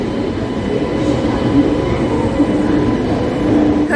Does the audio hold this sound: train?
yes